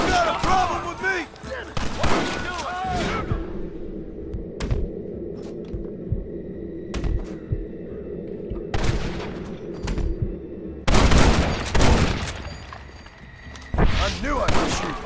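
Gunfire in Red Dead Redemption: bursts of shots and booming blasts over a steady low drone, loudest in clusters at the start, middle and end, with a voice speaking between the volleys.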